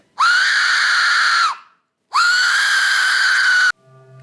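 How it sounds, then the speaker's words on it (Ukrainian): An Aztec death whistle gives two loud, sustained screeching blasts, each about a second and a half long with a brief gap between them, sounding like a human scream of despair, followed by a faint low tail. "Створюється цей звук таким предметом і називається Aztec Death Whistle, що перекладається як астецький свист смерті."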